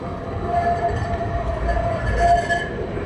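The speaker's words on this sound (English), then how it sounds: "There's a tram." A tram rolls steadily through a Kraków street in Kazimierz, with a low rumble, wheel-on-rail tones and brief higher squeals as it passes close by.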